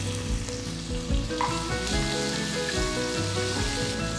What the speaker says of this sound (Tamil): அடுத்து ஒரு பெரிய வெங்காயம் பொடியை நறுக்கினது சேர்க்குறேன்